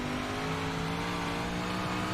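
A race car engine drones steadily with strong harmonic tones, heard from an onboard camera on the Limaland dirt track, continuous and close with no break in the noise.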